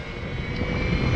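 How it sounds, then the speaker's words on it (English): A 4 kW electric mid-drive motor on a custom bike whines at speed, a steady high electric tone over road and wind rumble that holds constant through the short moment. "I'm trying to heat this motor up."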